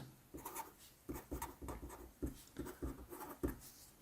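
Handwriting during a circle geometry problem: close, scratchy pen strokes arrive in quick irregular bursts with short pauses between them, and no voices are present.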